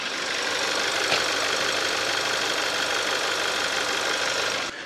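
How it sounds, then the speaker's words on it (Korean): A Kia K7 (The New K7) engine idles with the hood open, giving a steady, loud, continuous mechanical hum and rattle that holds evenly throughout, with no talking. "엔진 소리 한번 들어볼게요."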